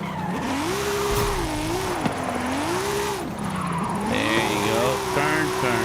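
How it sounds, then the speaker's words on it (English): A BMW drifts uphill in the Forza Horizon 5 racing game, its engine revving and wavering in pitch through the slide while tires squeal intermittently, loud and continuous throughout. "Let's try to clean up the uphill drift."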